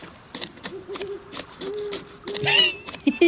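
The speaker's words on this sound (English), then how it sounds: "that owl's loud" A loud owl hoots repeatedly in the DayZ video game, a series of short tonal calls. Game ambience and faint rustling sit underneath, and a voice is briefly audible near the end.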